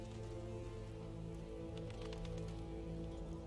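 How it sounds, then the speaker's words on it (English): A heavy downpour in The Witcher video game, dense continuous rain patter close up, steady and moderately loud, no talk. "Real downpour."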